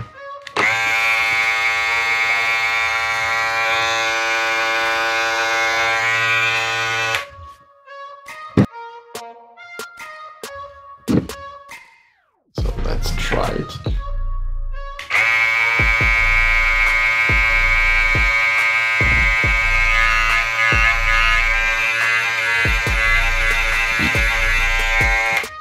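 A Wahl Cordless Detailer Li clipper fitted with a brushless motor runs with a loud, steady high-pitched electric buzz, cuts off into a few clicks and handling knocks, then starts again and hums continuously to the end.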